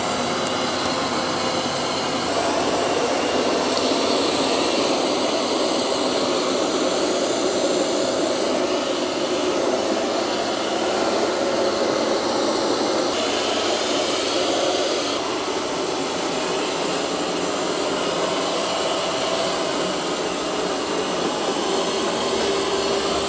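A eufy X10 Pro Omni robot vacuum and mop starts cleaning with a loud, steady whooshing suction drone. The level shifts slightly partway through, and no one speaks.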